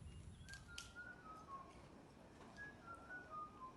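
A person whistles a few thin, wavering notes, faint and somewhat distant, pausing midway and then whistling again over low background rumble.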